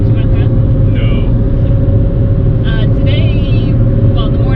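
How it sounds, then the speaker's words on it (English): A car's engine and road rumble heard from inside the cabin, a steady loud drone throughout while people talk over it. "Here we are in a car. We are in a car. Driving very far."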